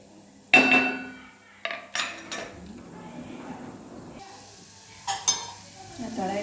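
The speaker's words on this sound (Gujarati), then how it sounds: "આ તળાય છે આપણા સિંગ ભજીયા." Peanut bhajiya frying in a pan of oil, a soft steady sizzle broken by sharp clinks of a metal spoon against the pan.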